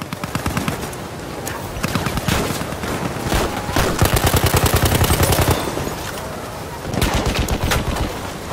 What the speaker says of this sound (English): Oh, here comes the mortars.